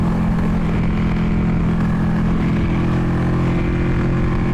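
A Ducati 899 Panigale sport bike cruises on the highway in sixth gear at about 5,000 RPM, a loud, steady engine drone with heavy wind rush and no talking.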